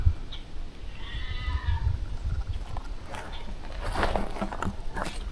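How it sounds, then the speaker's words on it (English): Outdoors in a yard, a goat lets out a thin, strained, sickly bleat, faint and brief against rustling background noise, followed by scattered soft knocks and scuffs. "That sick sounding thing you guys hear, that's a goat."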